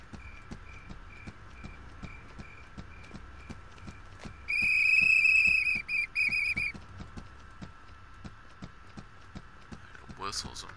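Whistling in the video game Hello Neighbor, a loud melodic burst lasting about two seconds in the middle, over a steady rhythmic clip-clop of footsteps and a faint hum.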